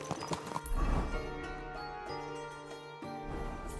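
Horse hooves clip-clopping at a slow, steady walk in Kingdom Come: Deliverance 2, soft and fairly faint with light tack jingles and a brief whinny early on.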